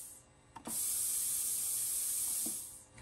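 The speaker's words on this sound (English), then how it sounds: "I've got my compressed air line plugged in for right now for testing." Compressed air hisses steadily through the solenoid valves and regulator of a DIY fiber laser tube cutter's gas control system, starting with a valve click and running as a continuous close spray before cutting off.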